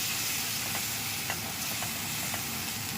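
Mutton sukka masala frying in oil after a splash of chicken stock, a dense continuous close sizzle and hiss with a few faint stirring taps.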